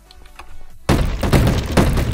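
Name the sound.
Desert Eagle pistol gunshots in Minecraft GTA server, video game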